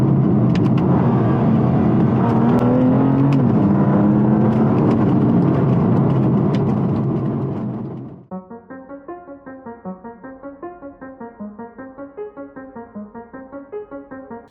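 A BMW M2 Competition is driven hard on a bumpy country road with paddle shifts, its engine roaring loud and steady before dropping abruptly to a low, rhythmic pulsing burble for the remaining seconds.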